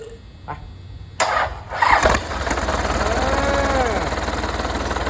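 A Yanmar 3TN100 turbocharged three-cylinder 70-horsepower engine cranks briefly and catches, then settles into a loud, steady, rhythmic idle close by.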